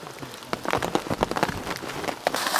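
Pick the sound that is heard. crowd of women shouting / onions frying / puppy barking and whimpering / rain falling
rain falling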